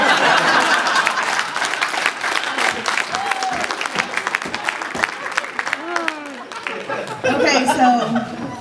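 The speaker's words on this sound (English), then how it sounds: "Can everyone give a big round of applause?" Audience at a roast breaking into loud applause and cheering, with chatter and some laughter mixed in, the clapping thinning in the middle before swelling again near the end.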